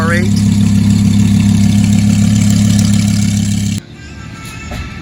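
An Audi R8 engine idles loudly and steadily up close, then the sound drops abruptly as the car pulls away, leaving a faint fading rumble.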